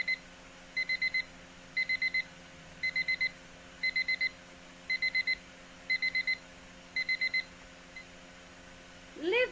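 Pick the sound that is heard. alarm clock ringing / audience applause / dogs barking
alarm clock ringing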